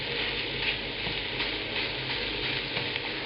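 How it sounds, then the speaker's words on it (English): Meat and shallots sizzle steadily in a hot pan over medium heat for a Balinese curry, a dense close continuous frying hiss with faint scraping as the meat is broken up, no talk. "Now I'm adding all the meat in. Begin breaking it up."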